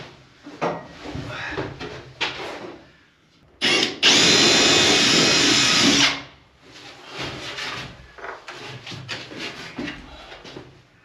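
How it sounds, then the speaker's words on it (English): A handheld power drill bores holes in a boat hull during home boat building, with one loud, sustained whine lasting about two seconds, surrounded by softer handling clatter and knocks. "I'll go get my drill and make some holes."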